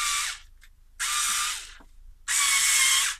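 A bendable USB-charged cordless electric screwdriver runs in three whirring bursts, each cut off by a short pause, close and fairly loud with no talking.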